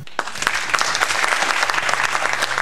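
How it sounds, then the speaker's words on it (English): A crowd claps steadily and enthusiastically, dense and fairly close, sustained throughout with no talking. "So everyone give him a round of applause."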